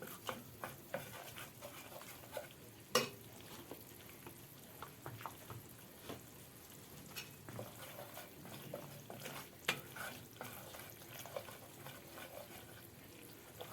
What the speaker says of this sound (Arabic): هنقلب في الدقيق مع السمنه لغايه ما تصفر شويه